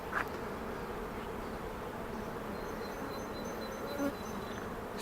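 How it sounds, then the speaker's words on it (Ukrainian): Honeybee colonies and new splits at a spring apiary hum in a steady, dense drone throughout, with a brief louder buzz as a bee passes close near the end. "От так от пасіка гудить сьогодні."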